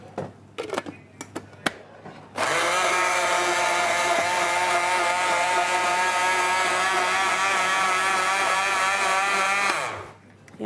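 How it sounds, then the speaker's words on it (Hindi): A countertop blender whirs loudly and steadily for about eight seconds, blending cucumber with a glass of water, with its motor starting abruptly and winding down at the end after a few brief knocks. "पानी आपने इसमें डाला और इसको ब्लेंड कर देंगे।"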